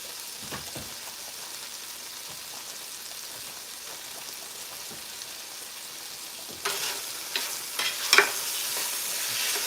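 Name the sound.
stirring food frying in a pan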